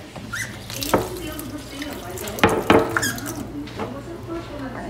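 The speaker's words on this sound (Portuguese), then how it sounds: "Ai, tem que botar mais um pouquinho de água" Water pours from a tap into a pan with sugar in a home kitchen, a close splashing trickle with squeaky bursts, while someone talks over it.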